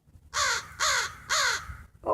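A pet crow or raven gives three loud, harsh caws in a steady rhythm, close up, and starts a fourth at the end, with a quiet room behind it.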